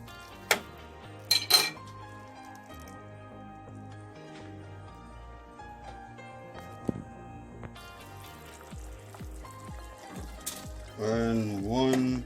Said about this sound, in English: Coconut milk, give it a little stir.